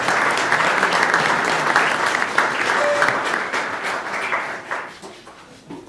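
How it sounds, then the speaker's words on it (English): An audience at a veterans event in Sedona applauds a county supervisor, a loud, dense round of clapping that holds steady and then tapers off toward the end. "Let's give her another big round of applause"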